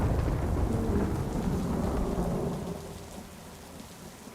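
A thunderstorm with heavy rain falling on surfaces, low rumbling thunder rolling under dense rain noise that eases off toward the end, no voices.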